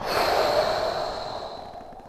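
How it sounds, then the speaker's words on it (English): A long, deep exhale during a golf stretching routine, a broad airy breath that starts strong and slowly tapers off, close and alone with no talking. "We take a full deep breath in. Exhale, reach further."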